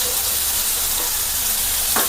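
Beetroot, already pressure-cooked, sizzles steadily as it sautés in hot oil for a beetroot kichadi, with a brief stirring scrape near the end.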